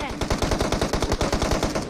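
Rapid automatic gunfire from a firearm in the mobile shooter game PUBG Mobile: a close, loud, continuous burst of evenly spaced shots, about ten per second, lasting two seconds.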